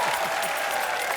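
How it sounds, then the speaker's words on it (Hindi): Studio audience applause on a television comedy talk show, a short dense burst of clapping heard close and loud with a faint hum beneath it. "चलिए तालियां।"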